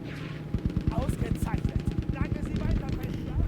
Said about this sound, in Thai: ยิงเป็นปืนกลเลยแล้วน่ะ ตึกตึกตึกตึกตึกตึกเลยอะ